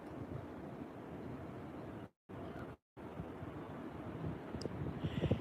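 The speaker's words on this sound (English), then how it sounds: "It is windy." Steady outdoor wind buffets the microphone with a low, rough rumble. It drops out briefly twice before gusting on.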